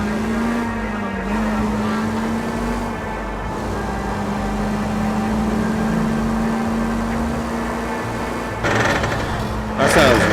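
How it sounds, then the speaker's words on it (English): A car engine in LA Noire VR hums at a steady, low buzzing idle-to-cruise drone for several seconds, close and continuous, with a person talking over it near the end. "I feel so safe in this car with the way that sounds."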